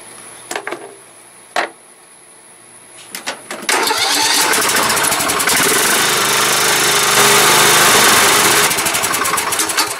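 A small engine, freshly cleaned carburetor, takes a few sharp pull attempts before catching and settling into a loud, close, steady running drone with slight fluctuations; no talking.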